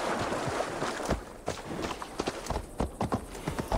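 Horse hooves clip-clop in Assassin's Creed Valhalla, an uneven run of hoofbeats that grows more distinct toward the end, fairly quiet and with no talk.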